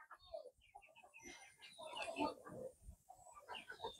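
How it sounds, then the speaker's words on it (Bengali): Chickens on a hobby farm in Italy cluck in short, scattered bursts, some overlapping, at moderate volume and fairly close throughout. "এখানে দেখো চতুর্দিকে কতগুলো মুরগি আছে।"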